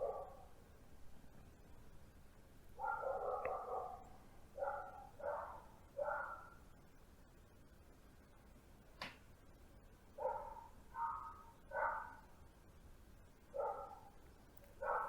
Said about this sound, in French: Vous entendez le chien